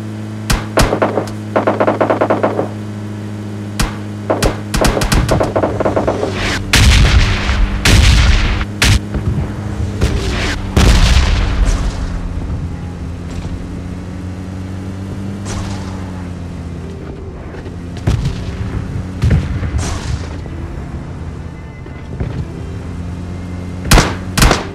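Gunfire from an enemy player in the mobile battle game BGMI Lite, heard as repeated sharp bangs and booms scattered over a steady low vehicle engine drone, loudest in the middle stretch.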